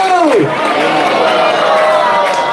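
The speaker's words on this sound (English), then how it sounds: "can we all please give a big round of applause for all the people who prepared the sweets and the painting" Loud, sustained crowd roar at the Panihati Chida Dahi Festival, a dense wash of cheering voices with a brief falling shout near the start, steady and close throughout.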